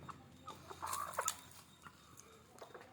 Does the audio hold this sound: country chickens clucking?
yes